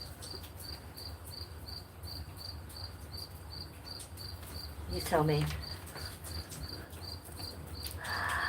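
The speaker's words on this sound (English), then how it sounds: "Listen to the rain and the cricket." Crickets chirp outdoors on a rainy evening in an even, rapid pulsing rhythm that runs throughout, with soft rain hiss beneath and a brief spoken phrase partway through.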